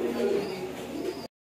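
Pigeons coo softly and repeatedly at close range, a low throaty murmur that stops abruptly.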